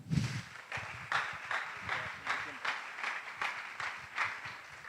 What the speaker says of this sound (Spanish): Un fuerte aplauso para Pablo Vidal